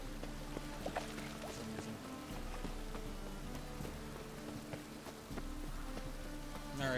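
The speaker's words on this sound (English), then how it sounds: "It's always raining now." Steady video game rain from The Witcher 3: Wild Hunt patters continuously with scattered drips and splashes, a dense even wash of sound without any voices.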